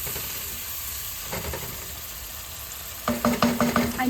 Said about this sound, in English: So at this moment, let our tomatoes just cook.